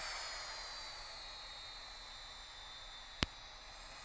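Jet engine blast from an airliner in the Infinite Flight game sounds as a steady, faint high roar and hiss, broken once by a single sharp click near the end.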